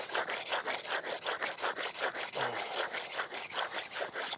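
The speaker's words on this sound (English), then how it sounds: "this is how you flatten a stone. Just rub it on the cement." A soft, fine sharpening stone scrubbed back and forth on cement pavement to flatten it, a steady rhythmic rasping stroke about every quarter second, close and continuous with no voices.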